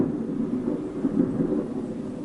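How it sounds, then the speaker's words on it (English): Thunder rolls as a low, continuous rumble that swells and recedes without sharp cracks, heard at a distance with no speech over it. "And it's thundering."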